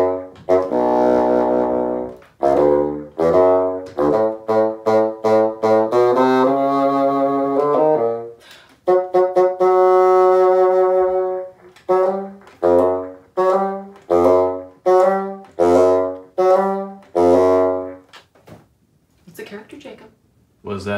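A bassoon plays the grandfather theme from Peter and the Wolf, a slow, halting melody of separate notes: a long held passage first, then a string of short detached notes with small gaps between them.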